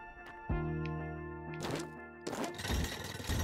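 A bomb detonates in a video game: two heavy broadband thumps, the second louder and longer, burst through steady tonal game music.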